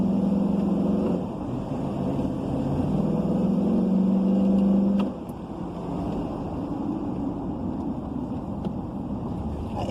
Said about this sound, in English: at the uphill section, it's a little bit tight, but I am going to give it a little bit of gas